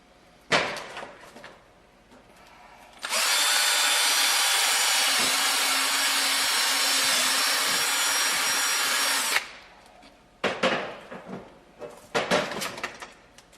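A Dremel drills through a joint on a skull kit: a steady high whine runs for about six seconds, loud and close, with handling clatter and knocks before and after it.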